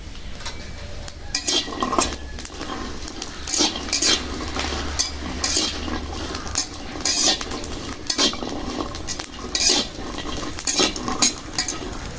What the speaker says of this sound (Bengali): কাঁচা মরিচ রসুন ভাজা হয়ে গেছে